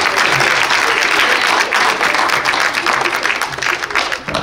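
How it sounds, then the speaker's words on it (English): A congregation claps together during a funeral service at a church, loud and sustained applause filling the room throughout with little let-up. "Let's clap our hands for the Lord Jesus."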